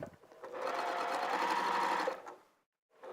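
A sewing machine runs in one continuous burst of about one and a half seconds, a close, even mechanical whirr, then stops; a short thump comes before it and another noise follows after a pause.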